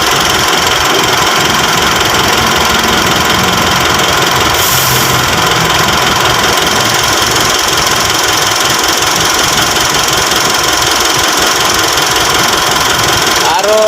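A 2019 Mitsubishi Strada diesel engine idles steadily with a close, even knocking rumble that runs throughout, under a faint high hiss.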